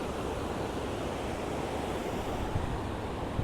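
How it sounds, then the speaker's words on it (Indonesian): Strong wind blowing outdoors near a river swollen by a cold lava flood from Mount Marapi in Agam, West Sumatra, a steady loud broadband roar with no let-up, close to the microphone. "sekarang angin juga sedang bertiup kencang"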